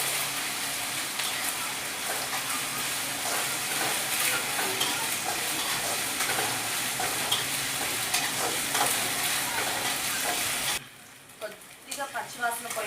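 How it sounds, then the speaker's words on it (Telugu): Ginger garlic paste frying in hot oil for a ridge gourd curry, with a steady loud sizzle and repeated scraping stirs throughout, then a sudden drop to quieter scattered crackling near the end. "ఇప్పుడు అల్లం వెల్లుల్లి పేస్ట్ వేసుకున్నాము"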